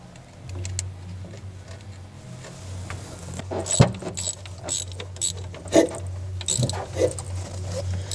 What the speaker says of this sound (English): Carefully tighten up the bolts and put in the pinch bolt.